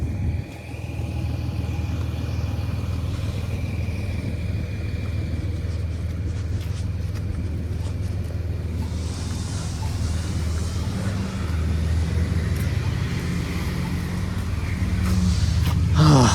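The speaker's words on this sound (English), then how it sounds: "There's the 63 Ossington bus." A 63 Ossington city bus rolls past near Oakwood and Eglinton in Toronto, its heavy low engine rumble holding close and steady before building slightly at the end over street noise.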